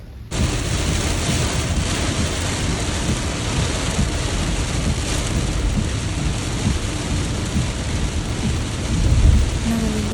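Heavy rain pours down in a loud, unbroken roar, close and constant, swelling slightly toward the end.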